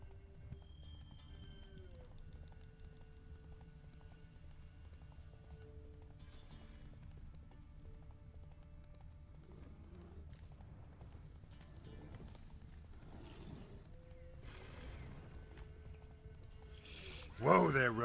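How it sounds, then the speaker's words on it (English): Roach the horse in The Witcher 3 video game, steady clip-clopping hooves at a gallop with an occasional whinny, faint and low in the mix under soft game ambience. "Whoa there, Roach."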